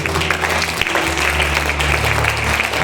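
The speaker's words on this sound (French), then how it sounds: "Est-ce qu'on peut applaudir pour le Seigneur Jésus?" Applause in honour of Jesus at a Christian night-of-the-Holy-Spirit service, a dense, steady wash of clapping over a low sustained musical hum, loud and close throughout.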